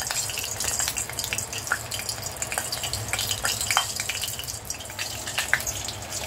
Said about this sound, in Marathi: आता आपण त्याच्यामध्ये टाकूया राई